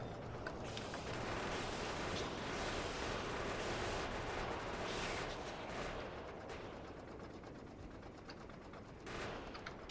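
Sustained dense gunfire in Factorio as turrets and weapons shoot at alien bugs, a continuous loud crackling barrage with scattered sharper bursts throughout.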